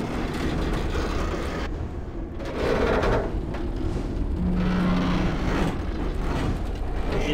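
A train in the 2008 video game Alone in the Dark, a loud, steady rumbling roar of rolling rail cars that runs throughout with slight surges.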